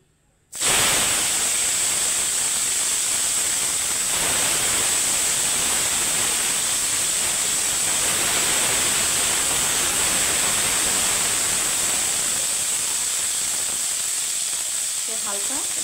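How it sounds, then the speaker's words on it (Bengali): Yardlong beans hit hot mustard oil in a pan and break into a loud, steady sizzle with a bright hiss that continues without pause. "এখানে আমার সর্ষের তেলটা আমি গরম করে নিয়েছি। তো এখানে আমি বটবটিগুলো আমি একটু হালকা ভেজে নেব।"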